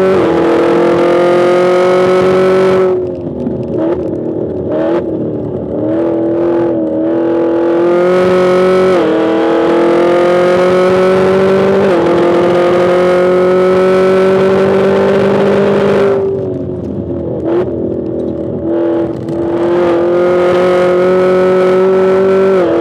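A Chevy Camaro ZL1 is driven flat out at Rockingham, its engine screaming loud and close through repeated upshifts, with each gear rising in pitch before a brief drop.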